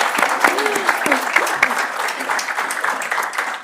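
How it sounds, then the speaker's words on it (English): An audience applauds a speaker's team during her talk on work-life balance. Sustained clapping fills the room, and a voice calls out over it in the first half before the applause carries on alone. "Yes, round of applause."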